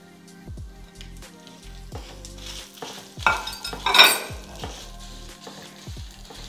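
Sesame seeds and dried red chilies frying in a pan, a crackling sizzle under repeated stirring and scraping, swelling into louder popping near the middle.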